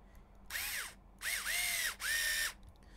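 A cordless screwdriver fitted with a 2.0 bit drives screws into an HPI Venture kit, three whirring bursts of rising and falling motor pitch, close and loud, separated by short quiet pauses.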